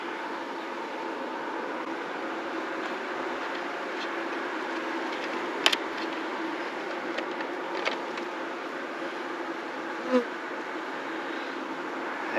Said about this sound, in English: Yeah, how quiet these bees are.